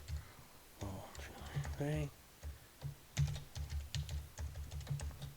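A password being entered on a computer keyboard, with quick bursts of soft close key taps under faint whispered speech and music.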